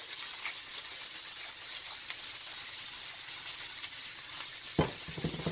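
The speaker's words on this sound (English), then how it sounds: "and then let that saute for a minute or two" Bok choy sautés in a wok for special fried noodles, giving a soft, steady sizzle that stays faint throughout, with a couple of louder clanks or stirring knocks near the end and no talking.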